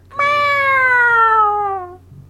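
A person's voice imitates a cat with a single loud, drawn-out meow that slowly falls in pitch, heard up close and alone.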